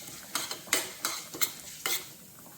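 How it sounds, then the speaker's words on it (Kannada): Urad dal and fenugreek seeds frying in coconut oil for an Udupi-style raw mango curry, with a spoon stirring and scraping the pan in a handful of sharp clinks over a low sizzle; no talking. "ಉದ್ದಿನ ಬೇಳೆ ಸ್ವಲ್ಪ ಹುರಿದಾಗಕ್ಕೂ ಅರ್ಧ ಟೀ ಸ್ಪೂನ್ ಮೆಂತ್ಯೆಯನ್ನು ಹಾಕ್ತಾ ಇದ್ದೀನಿ."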